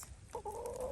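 Silkie chicken giving a brief soft cluck in snow, a short close two-part call over quiet outdoor background.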